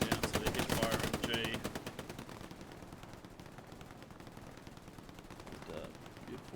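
A hip-fired machine gun in a video game rattles off rapid, evenly spaced bursts, loud at first and then fading into a quieter, steadier stream of fire, with a voice talking faintly underneath.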